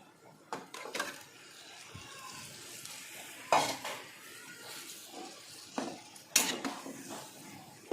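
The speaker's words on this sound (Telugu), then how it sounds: "ఇప్పుడు చికెన్ వేసేస్తున్నాను." Chicken frying in a pan with only turmeric and salt: a low sizzle under sharp clinks and scrapes of a utensil stirring against the metal pan, irregular and close, with no speech.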